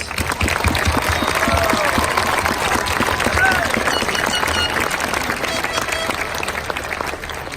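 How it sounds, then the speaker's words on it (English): Steady, loud applause from a large high school graduation audience, dense clapping with crowd noise filling the whole stretch, with voices mixed in under it. "Please give them a round of applause."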